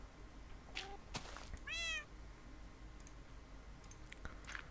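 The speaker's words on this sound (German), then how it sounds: "Warum brüllen die Katze die ganze Zeit?" A cat meows in Minecraft, one clear drawn-out meow in the middle and a shorter one earlier, over soft clicking from gameplay in a quiet background with no talk.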